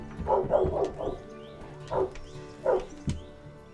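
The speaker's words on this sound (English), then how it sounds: "Immediately, the dog starts barking" A real dog barks in several quick, close woofs, a cluster at first and then a few spaced single barks, over a faint background hum.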